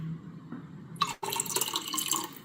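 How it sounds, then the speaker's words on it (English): Plain water, then cranberry, going into a container: a short splash starts the pour, breaks off for a moment, then resumes as a continuous bright trickle and gurgle until the end. "I'm gonna pour a little bit more of this water up in here."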